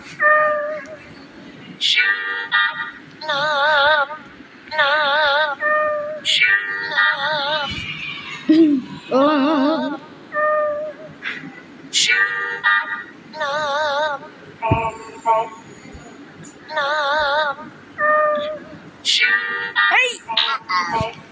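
A children's toy piano plays cat meow sounds, a run of warbling electronic tones repeated in short bursts with brief gaps, loud and close, while voices talk between and over them.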